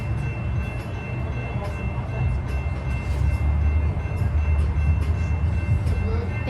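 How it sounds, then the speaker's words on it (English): Deep rumble of a freight train rolling past, steady and gradually building, with clanking cars and metallic squeals over the low drone. "It's a freight train."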